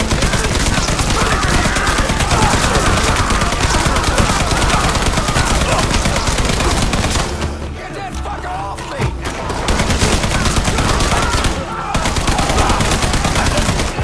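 Sustained loud M60 machine gun fire in Mafia 3, near-continuous bursts that briefly drop out around the middle before resuming at full intensity.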